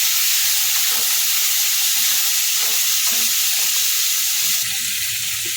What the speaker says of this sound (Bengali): এখন শিমগুলো দিয়ে দেবো শিমগুলো দিয়ে দু চারবার নেড়ে চেড়ে নেবো